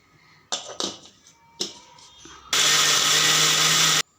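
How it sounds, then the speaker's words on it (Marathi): A kitchen mixer grinder blends soaked urad dal for vada batter, a few short pulsed bursts followed by a loud, steady continuous whir that stops abruptly. "त्याच्यासाठी मी 3 तास उडीद डाळ भिजत घातलेली, ती आता मी मिक्सरमध्ये वाटून घेते."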